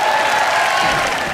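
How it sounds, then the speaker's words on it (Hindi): A studio audience at a comedy show bursts into loud, dense applause to welcome Bharti and Karan, a continuous close wash of clapping with crowd noise and no talk. "जोरदार तालियों के साथ स्वागत कीजिए भारती और करण का"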